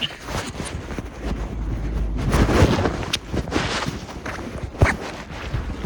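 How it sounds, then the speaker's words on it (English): Strong wind buffeting a ski lift during a snow squall, with 20 to 25 mph winds gusting to 30, roaring steadily into the microphone with louder gusts and a few sharp knocks, no talking. "We have a snow squall right now. We got winds probably about 20 to 25 miles per hour, gusts up to 30."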